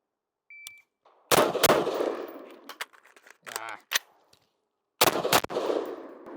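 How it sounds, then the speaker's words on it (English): Close-range gunfire from a CZ Bren 2 SBR rifle during a reload drill: a few loud, sharp broadband shots separated by pauses and mechanical handling clatter, then a second burst of shots near the end. "we got my CZ Bren 2 SBR. We're gonna see if we can do this."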